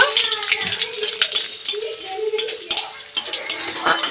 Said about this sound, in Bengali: নেড়ে চেড়ে ভেজে নেব